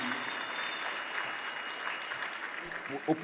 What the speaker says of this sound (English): Another big round of applause for that team.